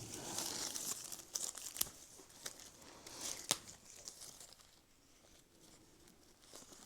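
Plastic vinyl film being stretched and wrapped around a freshly cut pawpaw tree graft, giving soft crinkling and crumpling rustles with a few sharper crackles, close and fairly quiet throughout.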